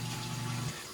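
Water gushes steadily through a custom immersion chiller while hot beer wort cools, a close, even rush that cuts off shortly before the end.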